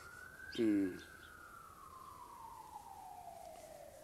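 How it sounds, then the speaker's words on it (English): A siren wails steadily at a distance, its tone slowly falling and fading across the whole stretch, with a brief louder low burst near the start. "let this particular siren die."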